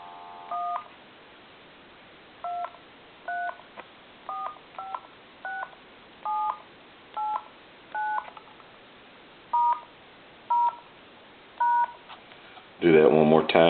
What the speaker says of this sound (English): I'll go ahead and dial the numbers real quick.